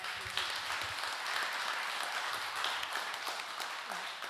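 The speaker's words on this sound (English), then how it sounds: "can we give my colleagues a big round of applause?" Audience at a community meeting with a senator gives a sustained round of applause, a dense even wash of many hands clapping, fairly distant and steady for several seconds.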